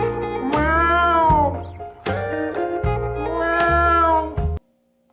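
A cat meows loudly and close up in a series of drawn-out, wavering calls, with the last of them cut off sharply.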